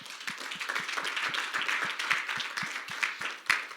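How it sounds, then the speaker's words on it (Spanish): A church congregation applauds together at a bilingual service, steady dense clapping with a brisk, even rhythm that holds throughout and swells briefly near the end. "Amén, dale un aplauso al Rey."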